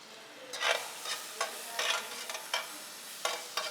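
Butter sizzling in a pan for pan-grilled fish, a soft low sizzle broken by several short scraping bursts as a utensil spreads it around the pan, fairly quiet and close.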